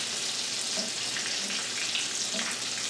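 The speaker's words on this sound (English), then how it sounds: "I just know what to look for when I drop something into hot oil. That just kind of sizzle." Calamari deep-fry in hot oil, giving a loud, steady crackling sizzle with small pops throughout.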